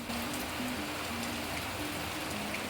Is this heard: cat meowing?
no